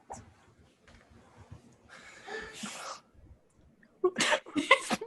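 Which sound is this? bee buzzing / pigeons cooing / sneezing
sneezing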